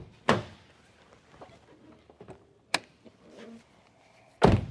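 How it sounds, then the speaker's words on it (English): A Nissan Sentra's fuel filler door is opened: a few sharp plastic clicks and thunks, close and fairly quiet, separated by soft handling noises. "So let me open the gas door."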